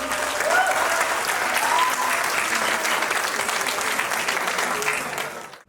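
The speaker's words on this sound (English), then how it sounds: "A huge round of applause to all the participants." Sustained applause from an audience at a campus exchange program event honoring participants, dense and steady for several seconds before tapering off at the end, with faint voices mixed in.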